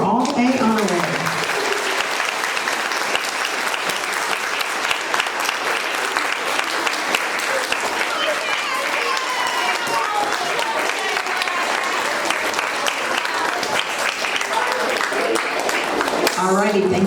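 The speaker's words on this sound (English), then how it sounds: "A big round of applause for all A honorary" A crowd applauds for honor roll students at a quarterly school awards ceremony, with dense, sustained clapping that runs for about fifteen seconds before fading, with talk at the start and end.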